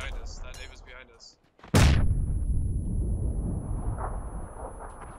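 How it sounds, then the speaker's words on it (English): A grenade explodes nearby in the video game PUBG, a sudden loud blast followed by a long rumbling decay, after a stretch of voices talking over the game. "That nade was behind us."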